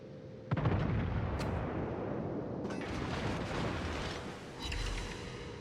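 Ship cannon fire in a naval battle game: a sudden heavy boom followed by a long rumbling roar, with further muffled blasts and crackling bursts layered over the continuous low din.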